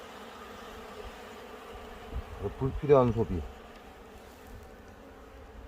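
Asian honeybees hum in a hive box being reworked by a beekeeper, a low, continuous drone under a man's close, brief speech.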